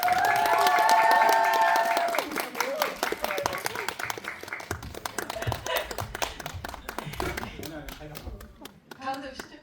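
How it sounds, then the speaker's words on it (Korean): An audience claps and cheers at a film screening event in a cinema hall, loud dense applause at first that fades into scattered claps, while people talk over it and a host's voice comes through. "큰 박수 부탁드립니다."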